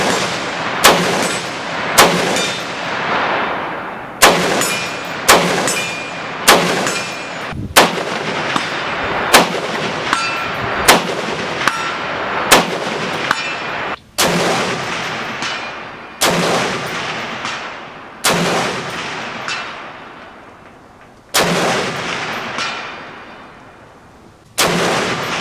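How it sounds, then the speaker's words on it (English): An Aero Precision M5E1 AR-10 rifle in .308 fires at an outdoor range. About a dozen sharp, loud, evenly spaced shots each ring out into a decaying echo, with no talk. "taking the M5E1 out to the range really was a pleasure to shoot"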